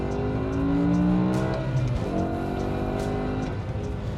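A high-revving BMW M5 V10 engine climbing through the gears toward about 8,000 RPM, loud and close, its pitch rising and dropping between shifts with no talking.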